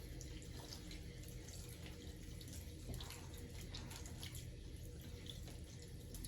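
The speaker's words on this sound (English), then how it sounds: "So I'm gonna rinse my hands for the second time." Hands are rinsed under a running tap at a sink after styling gel, making a steady, close hiss of flowing water with small splashes and no talking.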